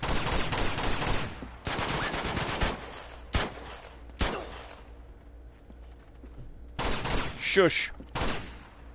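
Sustained automatic gunfire in the Uncharted 2: Among Thieves video game, loud dense bursts of rapid shots broken by short pauses, with a brief spoken word from a player.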